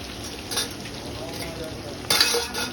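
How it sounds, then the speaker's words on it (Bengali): Potato strips for French fries frying in hot oil give a steady, close sizzle, with a few clinks of a utensil stirring and turning them. "কালদি এখন ভাজবে আলু ভাজা ফ্রেঞ্চ ফ্রাই"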